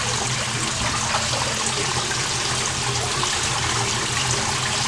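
Steady water flowing and splashing through a large homemade exterior koi pond filter, a continuous broadband rush heard up close with no voices.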